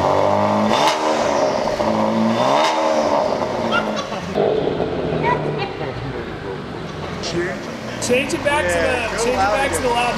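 A Cadillac ATS-V engine set to its loud exhaust mode revs hard with a raspy, rising and falling snarl, close and loud, while people talk over and between the revs.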